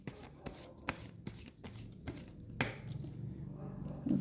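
Tarot cards being shuffled by hand, a series of quick riffling and slapping bursts close by, followed by softer handling.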